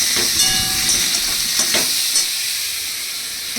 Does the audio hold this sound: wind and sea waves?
no